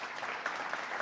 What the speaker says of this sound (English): Let's give them a round of applause and welcome home.